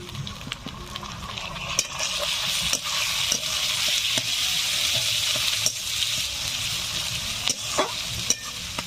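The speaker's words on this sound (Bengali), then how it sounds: "এখন দিয়ে দিচ্ছি টমেটো কুচি" Chopped tomatoes go into a chicken curry cooking in a pan, a steady loud sizzle running throughout with scattered stirring scrapes and clicks.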